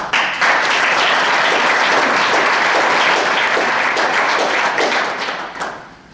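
An audience applauds at a Greater Grand Forks Young Professionals press conference. The clapping is loud, dense and steady for about five seconds, then fades out.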